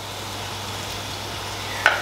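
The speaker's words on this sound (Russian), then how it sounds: "Я включаю огонь побольше и добавляю креветки." Shrimp fry in a hot pan over high heat for a creamy shrimp pasta, giving a soft, steady sizzle at close range with a brief sharp click near the end.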